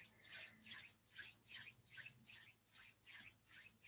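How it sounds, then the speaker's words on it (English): Hands rub slowly together to build heat, a soft, close, rhythmic swishing with about eight even strokes, each swelling and fading, alone without talk. "You slowly rub your hands and let the heat build up."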